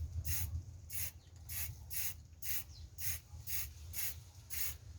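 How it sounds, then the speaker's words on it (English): Short bursts of spray paint hiss from a can onto a recycled can in a steady rhythm, about ten quick puffs, over a faint low background hum. "From a distance, you spray paint."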